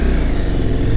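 A Husqvarna Norden 901 motorcycle pulls away with a steady, loud engine drone that holds close and constant throughout the short moment, with no voices over it.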